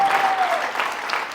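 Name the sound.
congregation clapping hands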